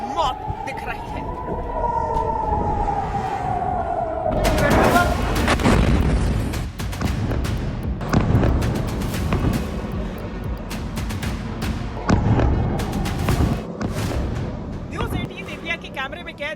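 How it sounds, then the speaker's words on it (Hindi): Missile strikes and cluster bomb explosions over Israeli cities, heard as a rising whistle-like tone followed by a rapid run of loud, overlapping booms and blasts that continue for several seconds, with voices mixed in. "मिसाइलें आसमान में चमक रही हैं और बरस रही हैं।"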